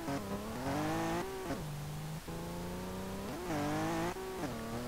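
Volvo car engine in Street Legal Racing Redline, revving hard and holding high before slow, lagging downshifts drop and rise the pitch in repeated surges, close and loud without speech.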